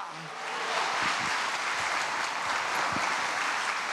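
A church congregation bursts into applause, a dense, sustained clatter of many hands that swells quickly and holds steady at full volume, with a few low thumps beneath.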